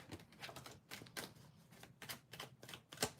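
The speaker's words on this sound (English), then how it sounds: "Give me one moment to shuffle." Tarot cards being shuffled by hand, a quiet, close series of rapid riffling bursts in an irregular rhythm, ending with a crisp snap.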